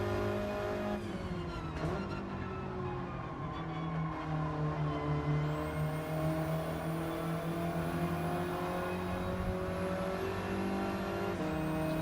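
A Volkswagen GTI race car engine drones loudly and steadily on a track, with pitch shifting through gear changes and brief tire squeal, close and continuous with no talk.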